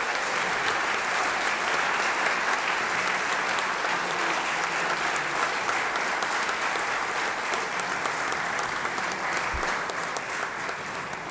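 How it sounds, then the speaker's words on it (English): Large audience giving a round of applause to young band members at a special presentation, sustained thick clapping that stays loud and even from start to finish. "Let's give a round of applause to these young men."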